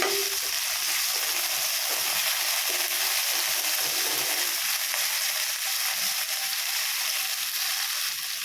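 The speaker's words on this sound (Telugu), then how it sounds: "ఇదైతే కొంచెం దూరగా వేగాలి పచ్చిమిర్చి అయితే కొంచెం దోరగా వేగాలన్నమాట" Green chillies frying in a pan, a steady, dense sizzle that runs without a break the whole time, close and fairly loud, with no talk over it.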